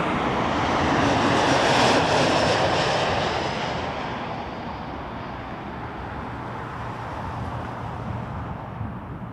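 Swoop-liveried airliner passing at Toronto Pearson airport, a loud broad engine roar that swells near the start and then fades steadily as the plane moves away.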